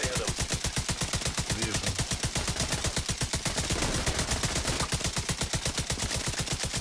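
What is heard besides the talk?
gunfire in video game Tom Clancy's The Division 2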